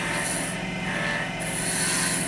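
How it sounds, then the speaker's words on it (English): Wood being cut by a parting tool on a spinning lathe, a steady continuous scraping rasp that holds at an even level throughout, close by with no talking. "grab a parting tool and get rid of some of that wood that's in your way"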